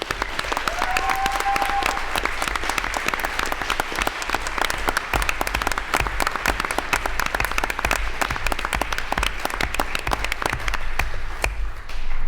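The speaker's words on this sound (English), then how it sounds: "I think that deserves a round of applause." An audience at a school board meeting breaks into sustained, loud applause, with many hands clapping in a thick, even wash that lasts the whole stretch.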